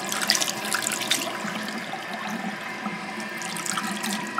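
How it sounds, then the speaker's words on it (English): Lukewarm tap water runs steadily from a faucet for a pet hedgehog's bath, a continuous close splashing flow with no voices over it. "So we're just going to use lukewarm water."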